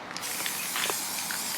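A spray paint can sprays a pumpkin at home, a steady close hiss running continuously with small variations and no talk.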